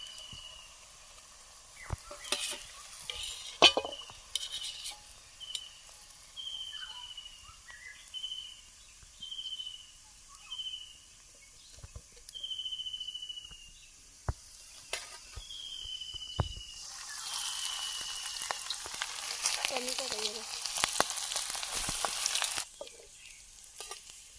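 Surmai fish frying in a pan outdoors in a forest, with a soft background sizzle and occasional clicks, while a bird repeats a clear whistled call throughout; the frying grows louder and hissier toward the end.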